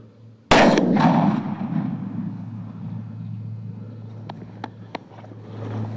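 A single loud rifle shot is fired at a wild boar in swampy country, a sharp blast followed by a long rolling echo that fades over several seconds, then a few faint clicks.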